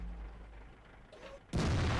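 A single loud tank cannon shot in World of Tanks bursts out after a stretch of quiet engine hum and faint battle ambience, its heavy boom filling the end of the clip.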